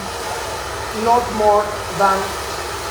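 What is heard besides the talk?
hair dryer blowing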